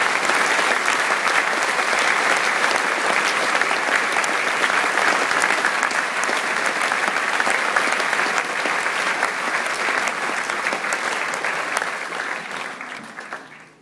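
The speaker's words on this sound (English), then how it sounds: "A big round of applause for" Large school audience at an awards assembly giving sustained loud applause for about thirteen seconds, steady throughout before tapering off at the end.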